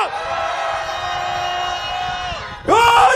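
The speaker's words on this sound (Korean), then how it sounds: "일행분들만 소리 질러!" A group of rally attendees at a candlelight protest lets out a long sustained shout, then bursts into louder cheering and whooping near the end.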